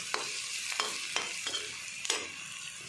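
Onions frying slowly on a low flame in a pan, a constant sizzle broken by regular spatula scrapes roughly every half second, close up with no voices.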